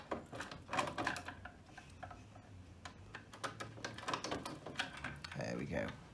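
The end casing of a sewing machine's thread tension unit is slid off, giving a series of small ticking and clicking metal sounds close by, with someone talking under them.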